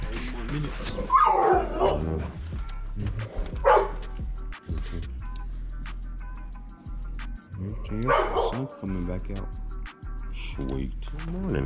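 Puppies yip, bark and whimper close by in short repeated bursts at a lakeside spring break spot in Broken Bow, while a person talks over them.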